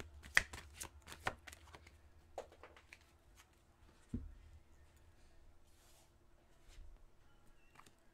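Tarot cards being shuffled and handled close up, a quick burst of riffling and slapping at the start, then sparse soft card taps and sliding, quiet with no talking.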